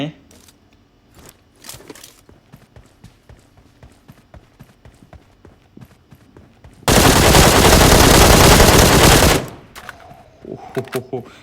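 Gunfire in PUBG on the Sanhok map: scattered single shots and clicks give way to a loud, sustained burst of rapid automatic fire lasting a few seconds, then sporadic shots resume.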